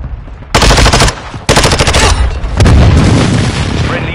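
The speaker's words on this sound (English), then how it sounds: "Friendly airstrike in the AO." Video game battle on Herrick Road, with a friendly airstrike: loud close bursts of rapid automatic gunfire interrupted by heavy booming explosions, a dense continuous barrage rolling through the whole moment.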